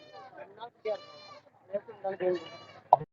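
A young goat kid bleats several times in short, wavering calls at a Saturday livestock market in Ettayapuram, heard close and fairly faint between and under people talking.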